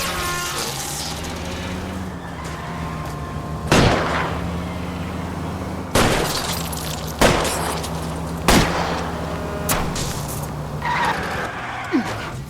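Single gunshots from the L.A. Noire video game crack out one at a time over a steady roar of car engines and skidding tires, five or six loud reports spaced a few seconds apart.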